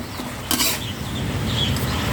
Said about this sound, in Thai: ผัดมะเขือยาวให้เข้ากันกับหมูกับพริกแกงครับ